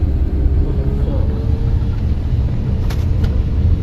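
A car engine hums and rumbles steadily from inside the cabin during a manual-transmission driving lesson, loud and continuous with faint talk over it.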